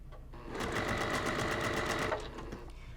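A sewing machine stitches a seam on a cross stitch mug rug, a steady fast mechanical whir with rapid needle ticking that starts after a brief pause and runs evenly for about two seconds before easing off.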